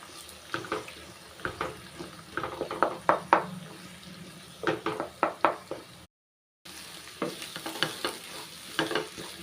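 Egg is stir-fried with sautéed cabbage, carrot, onion and green field beans in oil, a steady sizzle broken by repeated sharp scraping strokes of a spatula in quick bursts, with a brief silent gap partway.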